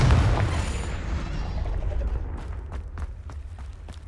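A Confringo blasting spell explodes in Hogwarts Legacy: a deep boom at the outset trailing off into rumble, followed by a few scattered sharp pops.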